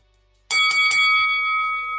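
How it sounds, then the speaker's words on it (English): A bell clangs to open a main event, several quick loud strikes from 0.5 s ringing out into a long sustained, slowly fading tone, close and alone without talk. "Ring the bell."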